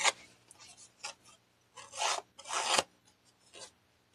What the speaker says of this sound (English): roughen up your edges with your scissors